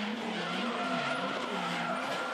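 A drift car in a D1SL drift competition run screeches through a sustained tire skid, a loud continuous squeal with wavering pitch over engine noise.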